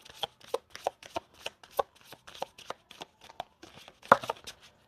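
Tarot cards are handled and flipped over in a quick series of crisp, close slaps and riffles, evenly paced, with no talking.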